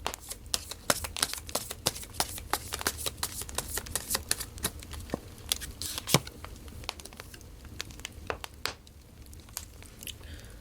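Tarot cards are shuffled close by for a compatibility reading, in quick papery riffles and soft flicks repeated at an uneven pace, with no talking.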